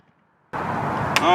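Chainsaw with a 24-inch bar cutting into a large tree close to 4 feet across, starting abruptly after near silence and running loud and steady, revving slightly higher near the end.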